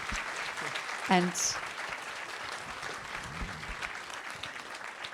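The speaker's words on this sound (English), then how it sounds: "round of applause" An audience at a philanthropy and self-determination panel session applauds at its close. The clapping is moderate and sustained, a speaker's voice cuts in briefly near the start, and a faint high chirp rises over it.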